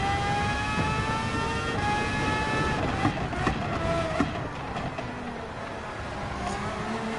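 A race car engine in Gran Turismo 7 on the Trial Mountain circuit drones steadily at high revs, pitch climbing through gears, with faint tire and wind noise, no talking.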